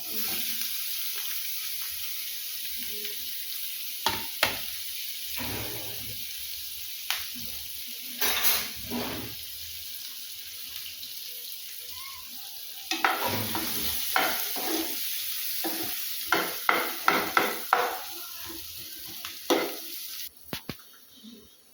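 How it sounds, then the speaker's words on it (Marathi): Green chillies and onion frying in butter in a pan for butter chicken: a quiet, continuous sizzle punctuated by intermittent scraping spatula strokes and occasional sharp clinks, busier toward the end. "आता आपण टाकू हिरवी मिरची, कांदा भाजून घेऊ."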